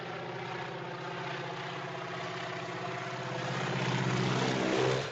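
A propeller airplane swoops in on a man during the crop-duster attack scene of the film North by Northwest, its engine droning steadily throughout and swelling louder toward the end as it passes close by.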